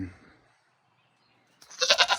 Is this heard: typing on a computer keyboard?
no